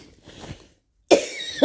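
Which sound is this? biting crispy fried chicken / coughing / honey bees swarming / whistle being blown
coughing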